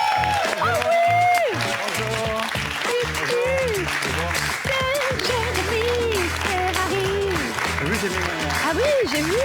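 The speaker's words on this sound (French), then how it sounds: "Je vous demande évidemment d'applaudir notre invité" Studio audience applause and cheering greeting guest Jérémy Ferrari on a French TV talk show, loud and sustained, mixed with music and voices over the clapping.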